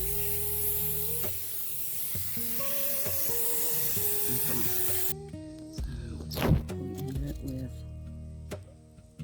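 Water spraying over iron-stained quartz crystal points and clusters in a rinse, a steady moderate hiss with faint clatter, then a sudden brief gush before the flow softens; talk runs underneath.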